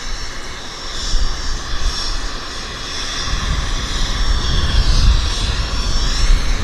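Air Canada Boeing 787 Dreamliner jet engines roar at Vancouver airport, a loud, steady broadband rush that swells gradually louder and deeper as the aircraft passes.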